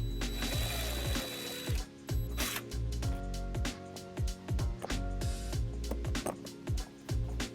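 A power driver whirs in short repeated bursts, driving screws to mount a trailer wiring bracket on a 2008 Hyundai Tucson, close and steady with brief gaps between runs.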